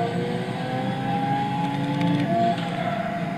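An 8-litre, 64-valve quad-turbo W16 Bugatti Veyron in Gran Turismo 6, heard from the interior view, drones steadily and loudly at high revs, with no one talking.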